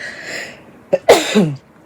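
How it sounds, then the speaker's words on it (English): A single close sneeze: a quick sharp intake of breath, then an explosive burst trailing off into quiet. "Oh, I'm gonna sneeze."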